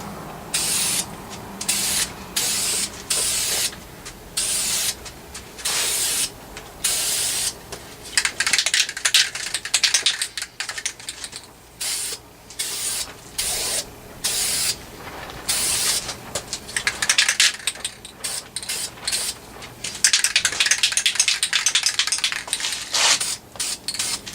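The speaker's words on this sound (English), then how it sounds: "So I'm just going to do some light coats, about 6 to 10 inches away." Aerosol spray paint hissing in repeated short bursts as light coats go onto a car engine valve cover, each spray lasting a second or two with brief pauses between, close and fairly loud, no talking.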